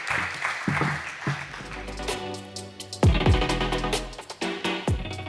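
Audience applause at a plenary session of the European Big Data Value Forum 2023 in Valencia, a steady wash of clapping that runs under loud, tonal music with strong repeated beats throughout.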